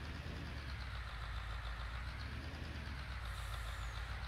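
A truck engine idles in Farming Simulator 19: a steady, low, even rumble with a faint mechanical rattle, running alone without any talk.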